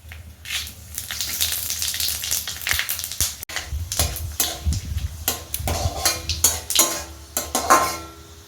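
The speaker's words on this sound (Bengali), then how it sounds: "একটা তেজপাতা আর দেব পাঁচ ফোড়ন" Bay leaf and panch phoron crackle and spit in hot oil, a busy close sizzle broken by irregular pops and metal utensil scrapes against the pan throughout.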